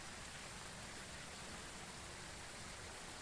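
Steady rain in the Phasmophobia game, a dense, even hiss of falling water with no breaks, fairly faint and alone.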